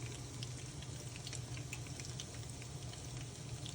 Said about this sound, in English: I put beans, a little bit of water.